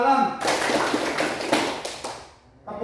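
Children clap together in a rhythmic clap game, a close burst of several quick claps that blur into a short ragged patter, ending in a brief pause.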